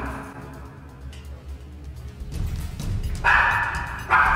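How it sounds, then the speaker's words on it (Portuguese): A dog barks a few times in short, sharp yips, growing louder toward the end over a low background rumble. "Mentira. Ela só latindo."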